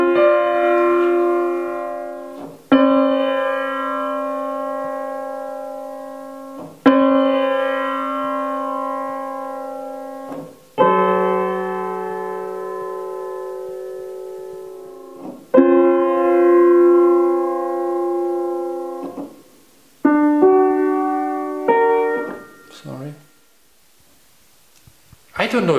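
A microtonal composition with intervals nearly a quarter tone off: sustained, harmonically rich electronic tones in a series of long blocks, each starting abruptly and fading, with shifting pitches and a brief quieter tail at the end.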